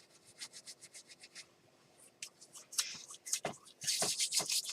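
Hands rub together briskly with rubbing alcohol in a series of soft, close, rhythmic swishing strokes that grow louder and faster toward the end.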